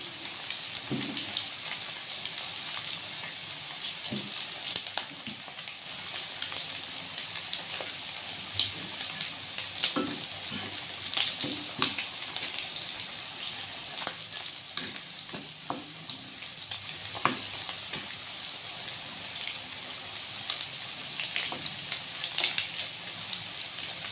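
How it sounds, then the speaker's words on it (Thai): Pork fries in hot oil in a home kitchen, giving a steady close sizzle scattered with pops and crackles that continues without a break. "หมูทอดนะ ทอดกับน้ำพริกผักต้มนะคะ"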